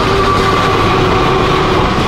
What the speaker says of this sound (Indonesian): kereta lewat.